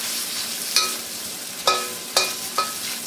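Food being stir-fried in a hot wok, with a continuous sizzle broken by four crisp scraping tosses of a spatula against the metal, close and unaccompanied by talk.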